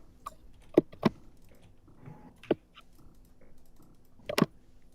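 Computer keyboard keys clicking in scattered bursts during a live online Among Us game session, a few sharp separate taps close to a microphone over quiet background hum.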